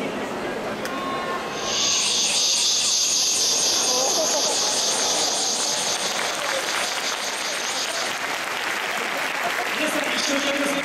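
A performer imitates a cicada with his voice, producing a loud, sustained buzzing, hissing drone in front of an audience, steady for several seconds after a quieter start.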